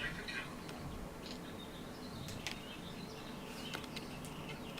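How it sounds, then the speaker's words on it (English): Birds outside a window chirp faintly and intermittently in short high tweets over a steady low room hiss, distant and quiet. "You can hear the birds outside my window."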